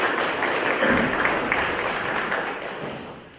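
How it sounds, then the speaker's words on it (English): A crowd applauds steadily, a dense wash of clapping that fades slightly toward the end, with no speech over it. "A round of applause."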